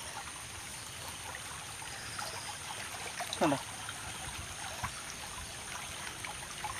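Flowing stream water runs in a soft, steady hiss and trickle nearby, with a brief spoken word and a faint splash partway through.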